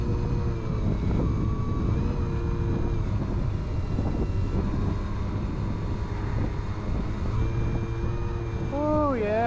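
A de Havilland Beaver floatplane making a low pass, its piston engine a steady, loud droning hum with tonal harmonics, mixed with wind buffeting the microphone throughout.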